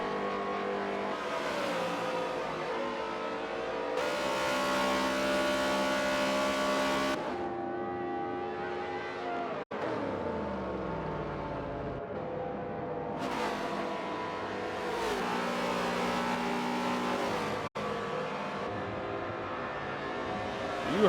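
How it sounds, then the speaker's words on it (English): A race car engine at a championship 250 race at Homestead-Miami roars loud and steady, dipping briefly before climbing again in a rising rev as the car pulls away, with no talk over it. "You heard him pop that clutch."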